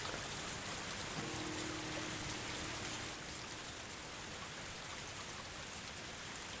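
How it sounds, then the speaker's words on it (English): Steady rain from the visual novel game Higurashi: When They Cry, a constant wash of falling drops that fills the clip alone with no talking, loud and even throughout. "Yeah, okay, all the rain sounds."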